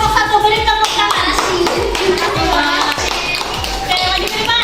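Schoolchildren in a primary classroom clapping for the first group as they come to the front, rhythmic, close claps with kids' voices chattering underneath.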